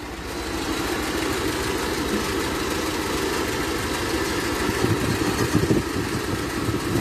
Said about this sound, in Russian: уменьшаем холостые до минимума, чтобы двигатель еле-еле работал